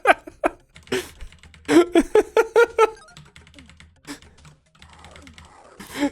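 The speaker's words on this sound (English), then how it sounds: "The keyboard mashing and the excitement." Rapid bursts of computer keyboard mashing during excited gaming, loud clustered clacks in quick runs separated by short pauses, close to the microphone with no voices over the typing.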